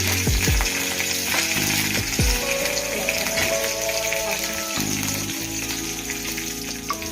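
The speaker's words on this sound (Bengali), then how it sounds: "এবারে দিয়ে দেবো আমি কারি পাতা" Curry leaves crackling and sizzling in hot oil with dried red chillies for sambar dal, a loud, dense spitting sizzle with sharp pops at the start that settles into steady frying, no one speaking.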